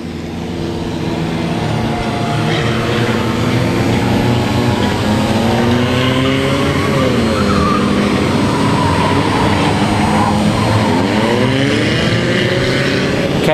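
A race car spins donuts in the infield of a track while a race is still running, its engine roaring loud and steady with repeated rising and falling revs throughout.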